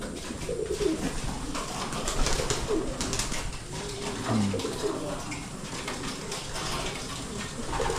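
Pigeons coo softly and repeatedly inside a loft, their low calls under a constant rustling, watery background noise, close but not loud.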